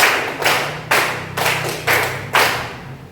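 A class claps together in crisp, synchronized bursts, five sharp group claps spaced evenly and close by, with no voices heard.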